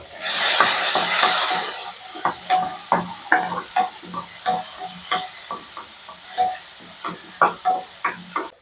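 Chopped onion, green chilli and tomato sautéing in a pan for mutton kulambu, with a hiss of steam at first and then a series of close, sharp spatula scrapes and taps over a soft, steady sizzle.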